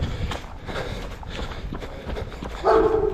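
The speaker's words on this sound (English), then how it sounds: "Not very friendly dog." An unfriendly dog on a residential road in Sardinia gives a loud, close bark near the end, over the steady rhythm of a runner's footsteps and breathing.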